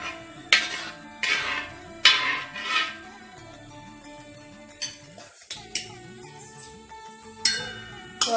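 Payasam of banana and broken wheat being stirred in a pot for Vishu, with repeated metallic scrapes and clinks of a ladle against the vessel in uneven bursts, close and fairly loud.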